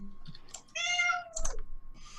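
A single drawn-out cat meow, rising then falling, clear and fairly close, with a few soft clicks around it and a brief scrape near the end.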